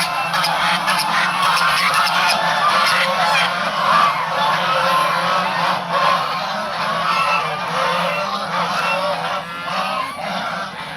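A flock of domestic geese honks continuously nearby, many overlapping calls forming a loud, busy chorus.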